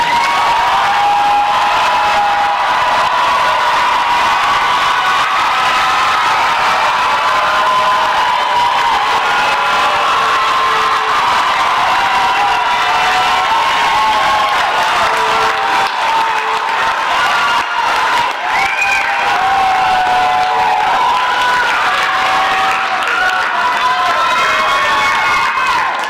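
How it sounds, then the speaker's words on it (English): A large crowd at a university spring commencement ceremony applauds and cheers for the graduates, steady loud clapping mixed with whoops and shouts that carries on without pause. "give them another round of applause"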